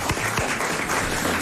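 An audience claps at a 1997 French television show, a short burst of moderate applause with a few distinct claps near the start, heard alone without talking.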